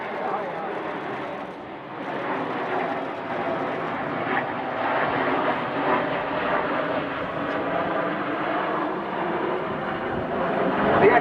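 Display jets roar continuously overhead at an air show, a broad, steady engine rumble that swells toward the end, with an announcer talking over it.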